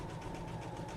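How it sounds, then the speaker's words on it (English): A sewing machine runs steadily while stitching down a line on quilt fabric, giving a continuous, even mechanical whir with no pauses for the full second. "I'm just going to come down here, and I'm going to stitch down this line"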